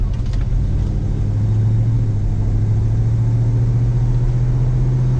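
A 1968 Pontiac LeMans convertible with an automatic transmission cruises on the road during a test drive, its steady, low engine rumble mixing with road and wind noise, loud and continuous, without talking.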